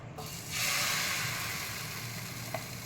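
Oats chilla batter hits an oiled frying pan and a bright, even sizzle swells up, then holds steady and close with a faint tap near the end.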